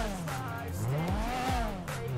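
A Mazda RX7 rotary engine revs up and down in a quick, loud sweep close by, its pitch rising and falling twice over a couple of seconds.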